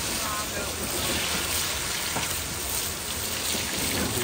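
Grated potato pancakes fry in a pan with a constant crackling sizzle that stays close and fairly loud throughout.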